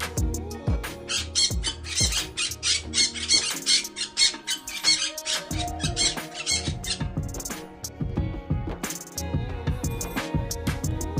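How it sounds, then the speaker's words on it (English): A parrot squawking loudly and repeatedly, harsh shrill calls in a dense continuous run with no talk. "Parrot. Parrot."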